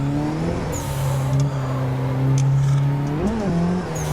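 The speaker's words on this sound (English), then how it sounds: "A nice clutch kick." A car engine drones steadily at high revs during a drift clutch kick, pitch holding then briefly spiking and dipping near the end, loud and close with no talking.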